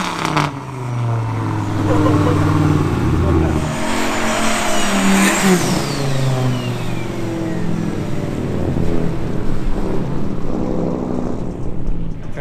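A Dodge Viper drives through pouring rain, its engine droning loudly and rising and falling with throttle, with a constant wet road hiss underneath and a brief tire squeal.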